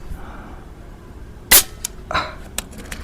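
A sharp, snappy air-rifle crack rings out once over quiet outdoor ambience, followed by a few fainter clicks and a soft thud.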